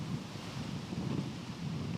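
Gusty wind buffeting the microphone on an open disc golf course during a professional tournament round, a steady low broadband roar that swells and eases over two seconds, with no voices.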